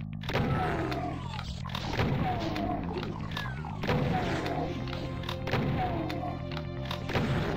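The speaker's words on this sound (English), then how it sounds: "we'll switch to the super shotgun now" Heavy booming shots from the super shotgun in Doom 2 thud repeatedly at irregular intervals, mixed with other game effects and a steady low rumble.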